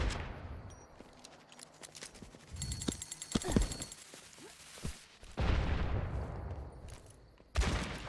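Sniper gunfire in an Overwatch match comes as several loud, sharp shots spread across the stretch, mixed with game effects and intermittent bursts of noise.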